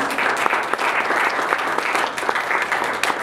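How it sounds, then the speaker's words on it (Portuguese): An audience at a workshop in Rio de Janeiro claps steadily, dense sustained applause with sharper individual claps standing out. "Vamos aplaudir diretamente do Rio de Janeiro"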